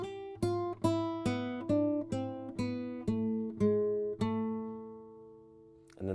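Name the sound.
classical guitar playing Malaguena flamenco intro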